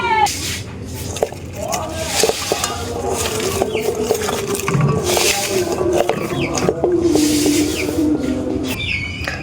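Raw tilapia fish with green chilies being mixed by hand with a little oil, a close, wet squishing and stirring, while birds coo in the background and a voice talks intermittently.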